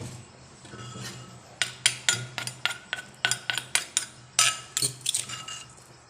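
Chopped field rat meat and vegetables being dropped into a cooking pot, a quick run of sharp clinks and knocks against the metal in an uneven rhythm, close and fairly loud over a faint background hum.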